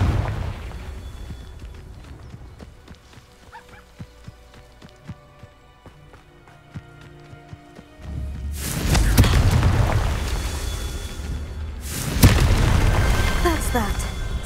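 Fire spell explosions in the video game Hogwarts Legacy, two heavy booming bursts with a roaring rumble after each one, following a quieter stretch of clicks and footsteps.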